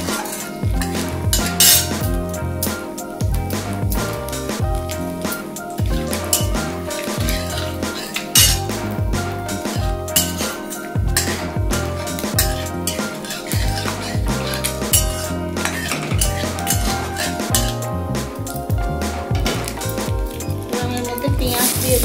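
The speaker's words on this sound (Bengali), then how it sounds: "ফোড়ন হিসাবে দিয়ে আমি এটা ভালো করে ভেজে নেব।" Dried red chili and five-spice seeds fry in hot oil in a pan, a steady crackling sizzle with clinks of a metal spoon against the pan throughout.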